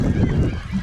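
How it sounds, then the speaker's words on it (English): Gray gulls call in a loud, harsh, honking cry at close range on open coastal water during a canoe crossing, filling the whole short moment without pause. "we've just been accosted by gray gulls the entire time"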